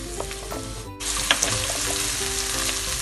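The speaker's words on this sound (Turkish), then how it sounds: "Yaklaşık 2 dakika kadar kavurmuş olduğum iç baklamı" Fresh shelled broad beans sauté in a pan with a bright, steady sizzle after a brief pause, punctuated by a few clinks and scrapes of stirring, with no talking.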